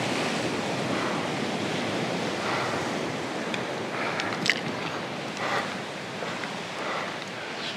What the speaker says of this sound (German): Da unten das Meer.